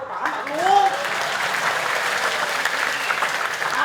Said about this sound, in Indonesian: Dan aku setengah-setengah tepuk tangan aja, kejam tepuk tangan